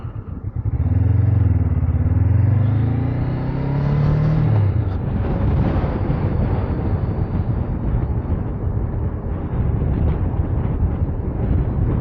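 A motorcycle on a road, revving up loudly from idle, then a steady close engine drone with heavy wind rush as it rides on; no talking.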